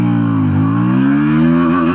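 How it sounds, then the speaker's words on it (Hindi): KTM Duke 160 motorcycle pulling hard in first gear, a loud close engine note climbing steadily in pitch after a brief dip, with no voices. "KTM ड्यूक 160 की टॉप स्पीड टेस्ट करते हैं, फर्स्ट गियर से लेके 6th गियर में"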